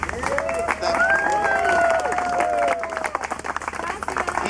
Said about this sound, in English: I want to ask for a big applause for him